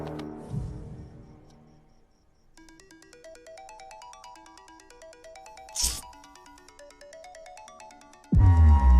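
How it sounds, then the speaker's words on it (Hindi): A mobile phone ringtone plays an incoming-call melody of repeating electronic tones for several seconds, close and clear, with a brief sharp noise midway and a loud burst at the end. "तुम्हारे नंबर से मुझे कॉल आ रहा है"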